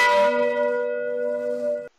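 A single bright bell chime rings out as a notification sound, starting with a sharp strike and sustaining a clear tone for nearly two seconds before cutting off abruptly.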